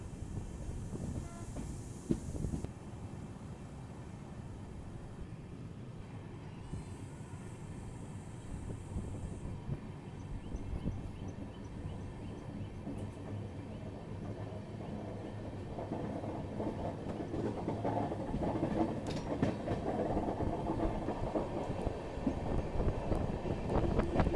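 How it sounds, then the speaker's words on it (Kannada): A Bengaluru–Mumbai LTT express train running on rails rumbles steadily for the whole stretch, growing slightly louder toward the end, with faint rhythmic clatter and wind buffeting. "ಭಾಳ ಸಣ್ಣ ಟ್ರೈನ್ ಅನ್ಸುತ್ತೆ ನೋಡ್ರಿ ನನಗೆ ಇದು ಮಾತ್ರ."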